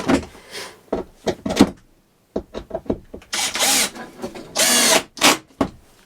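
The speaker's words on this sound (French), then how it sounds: "On visse celle-là avec des grandes vis." Power drill driving long screws into a desk fitting inside a caravan being refitted, heard as a run of short whirring bursts and clunks with quiet pauses, then two longer, louder drilling runs close by.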